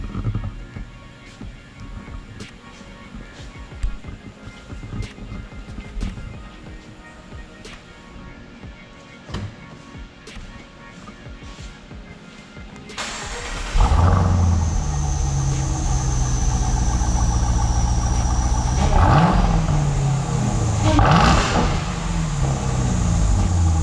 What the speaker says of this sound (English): I'm gonna give you guys a cold start with a couple of revs.